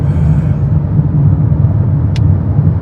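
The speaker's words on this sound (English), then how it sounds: "we're in Seattle traffic this morning going into work" Steady low rumble of Seattle road traffic heard from inside a moving car on a morning commute, a continuous muffled drone with one brief faint high hiss partway through and no talking.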